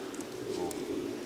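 Racing pigeons at a pigeon show in a hall, giving soft, steady cooing with a few brief higher chirps over a constant low room hum.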